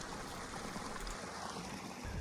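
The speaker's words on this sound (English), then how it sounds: "The sound you hear is actually a little babbling brook" Small, clear babbling brook spilling over a cliff edge into a ravine in the New Zealand backcountry, a steady close wash of rushing, splashing water with no talk over it.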